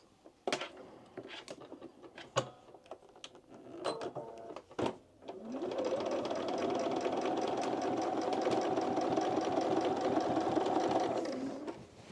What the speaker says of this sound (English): I'm top stitching around the neck.